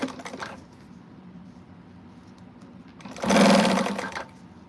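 A sewing machine top stitches around a Siah Sidekick bag, whirring in a short run at the start and then a louder, faster steady burst about a second long, with quieter pauses between.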